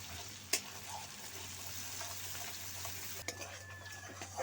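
Spice paste with ginger and Kashmiri chili powder being stirred in a pan for mustard pabda fish curry, a steady soft sizzle with a few sharp spoon scrapes and clicks against the pan.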